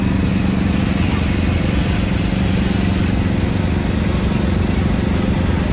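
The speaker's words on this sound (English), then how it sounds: "This is a 1982 John Deere 212 lawnmower, owned by David and Michael Lamp" A 1982 John Deere 212 riding lawn mower engine running steadily at a threshing show, a loud continuous droning rumble.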